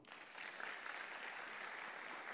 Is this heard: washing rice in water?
no